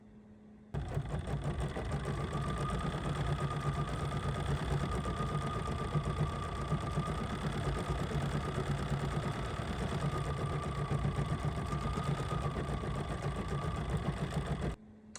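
BERNINA 5 Series embroidery machine stitching out a design in a mega hoop, a steady, close, rapid rhythmic whirring and clatter that runs continuously for most of the clip before stopping.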